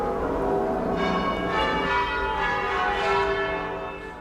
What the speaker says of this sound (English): And the bells have been ringing a lot during the day, all over the city.